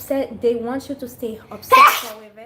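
A single sharp sneeze bursts out near the end, following someone talking in a steady voice.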